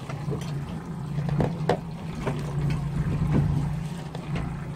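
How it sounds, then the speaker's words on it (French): A steady low fishing-boat engine drone runs throughout at sea off Toulon, with water slapping and splashing against the hull and some wind noise. "on va tenir le bateau à l'aplomb avec le moteur."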